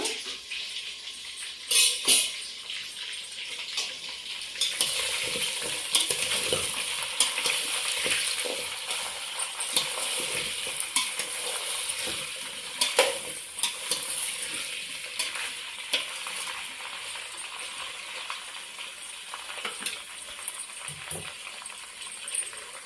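Chopped vegetables for sambar, including bottle gourd, drumsticks and green chillies, sizzle in a hot pan with a continuous close frying hiss, broken by repeated scraping and stirring strokes.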